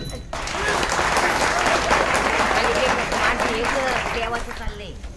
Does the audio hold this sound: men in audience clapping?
yes